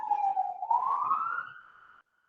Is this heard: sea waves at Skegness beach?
no